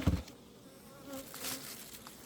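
Honeybees buzzing in a steady, soft drone after a brief knock at the start, with faint wingbeat swells and no voices.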